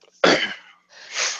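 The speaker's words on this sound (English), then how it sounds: "Achoo! Bless you." A single loud, close sneeze bursts out, followed by a softer breathy trailing sound, with no other noise around it.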